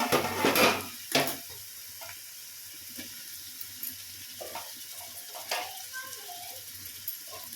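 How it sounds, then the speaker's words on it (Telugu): Onions and mint frying in a pan are stirred, with a loud burst of sizzling and scraping at the start, then quieter intermittent stirring clicks over a soft steady sizzle. "పుదీనా వేసుకొని మొత్తం ఒకసారి కలుపుకోవాలి"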